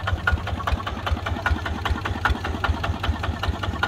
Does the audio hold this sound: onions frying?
no